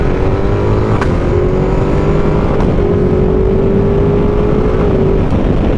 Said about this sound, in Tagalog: Exhaust niya medyo iba, pero yan yung naririnig nyo na pumuputok pagka nagkada shift.